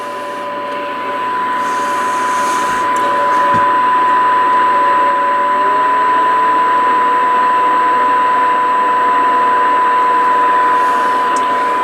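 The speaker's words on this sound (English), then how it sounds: "you can hear the 1 kilohertz tone in the background along with a little heterodyning" A steady 1 kHz test tone hums over a hiss of receiver noise on a Sony CRF-320 radio under repair, with faint wavering heterodyne whistles drifting underneath throughout.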